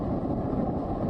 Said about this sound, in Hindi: तेज हवाओं के साथ हो रही बारिश से पूरा इलाका कांप रहा है।